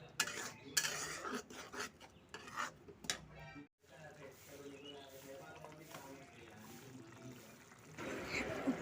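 Spices (masala) being stirred and fried in a pan, with a spoon scraping and clinking against the metal over a soft sizzle, in irregular bursts with a short pause midway.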